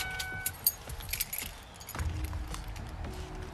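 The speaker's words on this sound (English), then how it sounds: "Turn off the car and pass me the keys, please." Car keys jangle in several bright, brief bursts at close range as they are passed over during a roadside traffic stop, with a car engine rumbling low beneath them.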